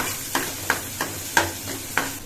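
Onion frying briefly in a pan for an aloo sandwich filling, a low sizzle punctuated by about six evenly spaced clinks and scrapes of a spoon stirring against the pan.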